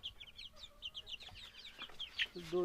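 Young chicks about a month old peep and chirp in rapid, high bursts close by, joined near the end by a fuller cluck.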